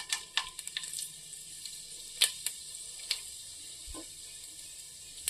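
Fennel seeds, cinnamon and cloves crackle in hot oil in a kadai, a soft steady sizzle with scattered sharp pops and ticks, close and fairly quiet, with no voices.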